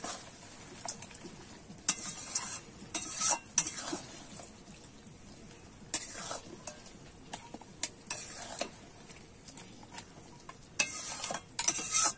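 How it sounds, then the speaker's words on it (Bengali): Spoon scraping and clinking against a pan while stirring Bengali-style chorchori made with Bhetki fish bones, irregular strokes over a soft background hiss, close and moderately quiet. "একটু নাড়িয়ে চাড়িয়ে এবারে নামিয়ে নেব"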